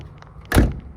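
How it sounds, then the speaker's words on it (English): A single solid thunk of a car door shutting on a 1977 Datsun 280Z 2+2, close and fairly loud, preceded by quiet faint rustling. "Doors closed perfectly."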